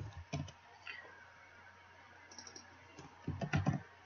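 Fingers tap a computer keyboard while data is entered into a web business application, with soft, faint clicks in a short burst at the start and a denser flurry near the end, separated by near silence.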